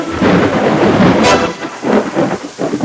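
Thunderstorm effect for a Ukrainian fairy tale: rolling thunder rumbles under a steady hiss of heavy rain, loud and close, with a sharp crack partway through.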